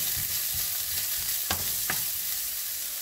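Onion sizzles steadily in a frying pan, with a few sharp scrape and click sounds as it is stirred.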